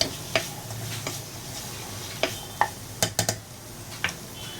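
Black chana with salt is stirred in a pan, a spoon scraping and tapping the metal in scattered sharp knocks over a soft background sizzle.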